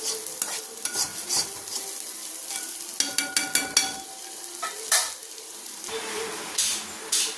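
Dry fish thokku made with ghee fish karuvadu fries and sizzles in a pan while a spatula stirs and scrapes it in repeated close strokes over a steady hiss.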